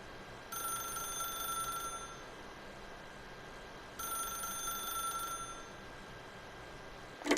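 A telephone rings in The Stanley Parable video game, two long bright ringing bursts separated by a pause, clear over a quiet hiss.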